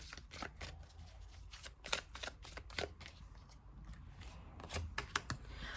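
Tarot cards are shuffled and drawn in a quiet room, with a rapid run of crisp riffling flicks, brief pauses, then more bursts of card snaps, close and soft.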